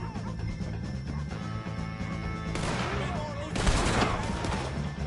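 Red Dead Redemption 2 shootout against the O'Driscolls: scattered gunshots and crashing bursts sit over a constant low rumble and background music. The loudest blasts come near the middle and late in the clip.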